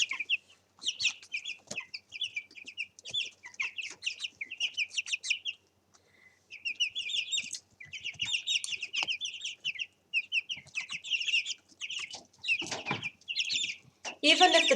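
Young chickens cluck and chirp busily at close range in a backyard coop, with dense overlapping calls, a brief pause, then more chatter and a few louder squawks.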